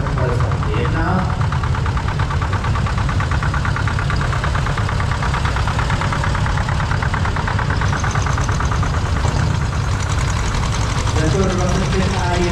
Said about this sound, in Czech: Zetor 25 pana Václava Vašáka, traktor z roku 1951.